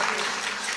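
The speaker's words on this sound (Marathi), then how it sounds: "सर्व गावकऱ्यांसाठी एकदा जोरदार टाळ्या." Villagers dressed as Warkari devotees clap loudly together at a devotional bhajan gathering. The applause is a brief, dense burst close to the listener.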